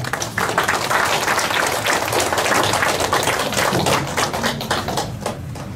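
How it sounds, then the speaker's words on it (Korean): An audience in a lecture hall in Daegu claps warmly to welcome a guest lecturer, a loud, dense burst of many hands that holds steady and then thins out toward the end. "뜨거운 박수로"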